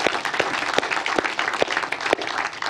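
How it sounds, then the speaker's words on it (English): Steady applause from a church congregation at an Easter service, many hands clapping together in a dense continuous patter with a few sharper individual claps standing out. "would you extend that applause to our worship team for the music they shared with us?"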